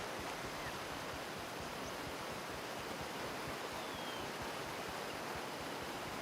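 Constant roar of a waterfall in Gray Zone Warfare, an even, hissing rush of cascading water that holds at the same level throughout without pauses or other sounds.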